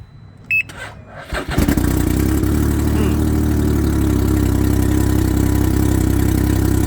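Can-Am Ryker engine with a new battery cranks briefly after a few faint beeps, then catches and settles into a steady, even idle that stays close and constant.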